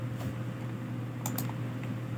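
A few soft computer keyboard key presses tap quietly over a faint steady background hum, with a quick double keystroke near the middle.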